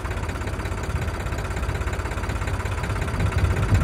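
A 4x4 tractor engine runs and labours while puddling a waterlogged field, a steady low throbbing rumble with rhythmic knocking that grows slightly louder toward the end.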